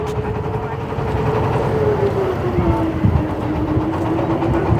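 A trawler boat's engine drones steadily on the Sandhya river at Banaripara, Barishal, a close, low, continuous hum with a faint, slowly falling pitch over broadband wash and rumble.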